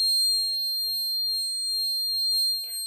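Steady electronic beeping from an Arduino Uno obstacle sensor alarm in a vehicle accident-prevention system, a continuous high tone with faint background sounds and no talk.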